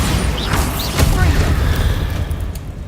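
Bombarda spell blast in the video game Hogwarts Legacy, a loud booming explosion with a crackling burst near the one-second mark over dense game sound.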